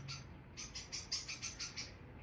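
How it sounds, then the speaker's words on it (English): Loud birds chirping outdoors in a quick, repeated series of bright calls, about eight chirps over a couple of seconds, heard alone with no talking. "I don't know if y'all can hear those loud ass birds out there."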